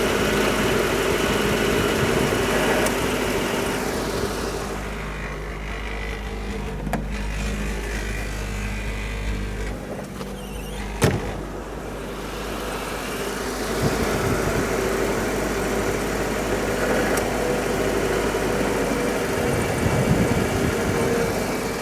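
A Citroen car engine idles steadily after carburetor tuning, a loud, continuous close-up rumble whose pitch dips and recovers midway, with a brief metallic knock and no talk.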